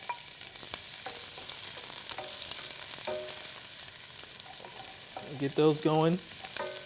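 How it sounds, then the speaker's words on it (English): Onions sauteing in hot oil in a pan, a soft continuous sizzle with light stirring clatter, close by, while someone speaks briefly near the end. "So what I'm gonna do is, first thing is saute my onions."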